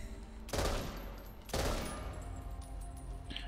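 M16 rifle fire in the zombie shooter Back 4 Blood, two loud close bursts of rapid gunfire about a second apart, each trailing off into ringing decay.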